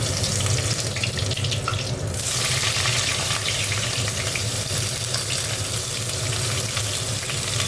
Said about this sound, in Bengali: কুমড়ো আর বেগুনটা একটু ভেজে নিলাম।